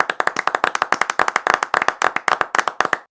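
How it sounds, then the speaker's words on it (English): A small group claps briskly and close by for about three seconds, sharp hand strikes coming in a quick uneven patter before stopping abruptly, with no voices over it, opening a podcast episode. "let's clap it up,"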